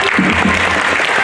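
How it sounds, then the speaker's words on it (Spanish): Warm audience applause for a clown at a sixth-anniversary show, a dense, loud burst of many hands clapping at once, briefly sustained. "Muchas gracias, muy amable por esos aplausos tan cariñosos que me regalan esta tarde"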